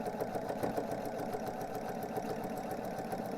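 A sewing machine backstitches along quilt binding with a steady, rapid mechanical whir and fine repetitive ticking that runs unbroken at a moderate level, with no talking.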